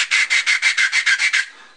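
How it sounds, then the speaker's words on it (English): A big flat sanding block rubs a small 1/72 scale model kit part in about ten quick, even strokes, each a short dry rasp close to the mic, before the sound stops. "I'm using this big flat sanding block here to just sort of make sure all of the sides are"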